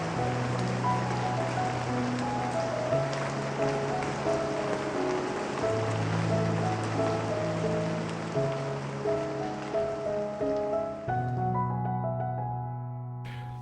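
Rain falls steadily in a dense, even hiss on a surface, continuing without a break beneath sustained soft musical tones that shift partway through.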